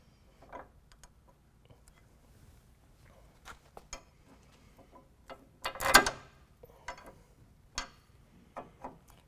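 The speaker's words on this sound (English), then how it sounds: "I'm going to take and force it on the rest of the way with a deep well socket." A deep well socket ratchets a bolt onto a Road Armor Stealth Prerunner front bumper on a 2015-or-later Chevy Silverado, a run of faint, irregular clicks with one louder metallic clatter midway, no speech.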